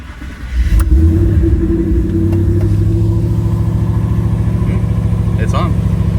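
A car engine with newly installed FIC 2150cc injectors turns over and catches, then settles into a steady, loud rumbling run close by.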